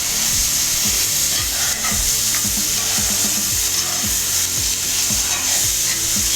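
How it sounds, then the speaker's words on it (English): Oysters and shrimp with butter stirred around a hot pan, making loud rhythmic scraping and rubbing strokes that repeat quickly over a constant close sizzle, with no voices. "Stir that around here."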